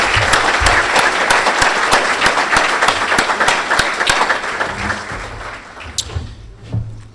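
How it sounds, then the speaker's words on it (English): A banquet audience at a Good Scout award dinner gives a warm round of applause, loud, dense clapping that holds steady and then thins out toward the end, with a few stray claps and faint voices. "let's give them a warm round of applause and our thanks"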